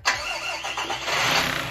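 A Tamiya MFC-03 RC truck's motor starting up again, a sudden close whir that rises and settles into a steady electric hum with a brief fluttering, no voices.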